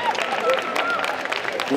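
An audience applauds at a cosplay contest award ceremony during the Japan Manga Wave convention in Saint-Étienne, with brief dense clapping mixed under a speaking voice.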